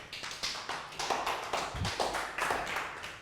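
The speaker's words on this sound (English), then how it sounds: "Can Prel get a round of applause?" Children in a classroom give a round of applause, a brisk, uneven patter of clapping that stays fairly quiet and close with no talking over it.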